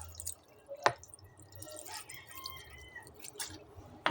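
Vinegar poured over fresh hiwas fish in a pot for a Batangas sinaing, heard as sparse wet drips and small splashes at uneven intervals, close and quiet with no speech.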